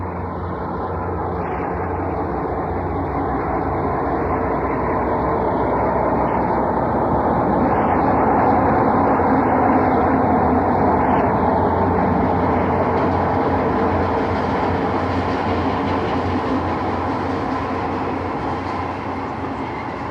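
ALCo Century diesel locomotive hauling a rush hour passenger train, its engine roaring loud and building as it accelerates, a high whine wavering over the rumble for the first half before the sound settles into a sustained heavy drone.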